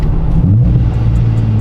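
Supercharged Nissan 370Z with a single-exit exhaust idling and burbling nearby, a loud, deep, steady rumble with slight pulsing and no rasp.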